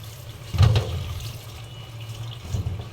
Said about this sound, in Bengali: আমি ছিদ্র একটা বল নিয়ে নিয়েছি, কারণ এত ছোট ছোট পাতা এইভাবে না নিলে এটা ধোয়াটা মুশকিল হয়ে যাবে